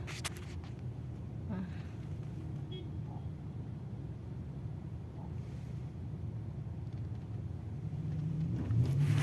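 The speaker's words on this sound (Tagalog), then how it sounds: "Tapos sa kabila na naman yung traffic." Road traffic in a jam, with a continuous low rumble of idling and creeping cars close by and a vehicle revving louder near the end.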